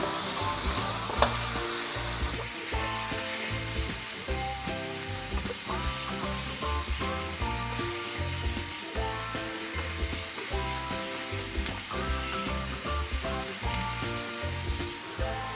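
Mung beans and pork hiss in a pan with ginisa flavor mix and pepper while being stirred. A steady, close sizzle continues throughout, with rhythmic tonal music playing underneath.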